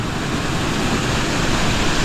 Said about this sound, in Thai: ตอนนี้นะครับก็ขึ้นมาถึงน้ำตกแล้วนะครับ ด้านบนแล้วนะ